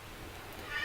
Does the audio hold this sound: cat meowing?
yes